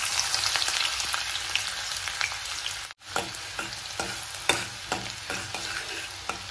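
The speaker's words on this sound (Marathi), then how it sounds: "तेल छान गरम झालेलं आहे। यात आपण 1 बारीक चिरलेला कांदा घालूया" Finely chopped onion frying in hot oil for shev bhaji, a dense continuous sizzle with frequent spoon scrapes and clinks, close up, with a brief drop out near the middle and no talking.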